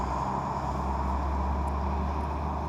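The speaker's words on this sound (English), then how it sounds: "FedEx truck. That's not gonna pick me up." A FedEx delivery truck passes on a road near Raymond, Washington, a steady low rumble of engine and tire noise that holds evenly throughout without rising or fading.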